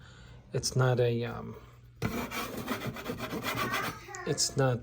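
A 6-inch stainless steel scraper rasps against a wall as old wallpaper is scraped off, making a continuous broadband scratching run in the middle, with someone talking before and after.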